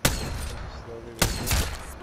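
Loud sharp shots from a 30-30 rifle in a video game, a couple of separate blasts with booming tails and some lingering background noise between them.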